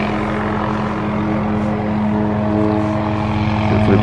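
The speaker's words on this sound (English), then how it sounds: "Waiting on the helicopter." A helicopter comes in for a pickup in the Otago high country on a fly-in hunt, its loud, steady rotor and engine drone filling the air close by and building slightly toward the end.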